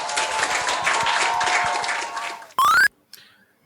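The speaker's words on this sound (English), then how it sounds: "Thank you for the applause there" Dense, steady clapping from a crowd for a couple of seconds, cut off by a brief loud rising electronic tone, then near silence.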